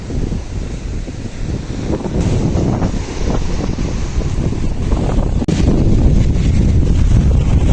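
Sea waves wash at a beach on a cold, cloudy day, with strong wind buffeting the microphone. The roar is continuous and loud throughout, and there is no talking.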